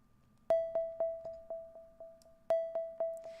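A Paper Plucks synth patch in Vital plays bright, short plucked notes with ringing harmonics, two repeating figures of about eight evenly spaced plucks that ring and fade, clean and alone.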